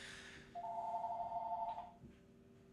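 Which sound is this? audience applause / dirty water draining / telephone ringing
telephone ringing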